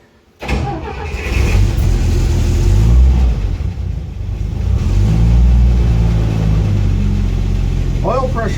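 A car engine starts and then revs in neutral after the choke is used, a sudden loud catch followed by a steady rumbling idle with swelling revs, close up, with a voice briefly audible.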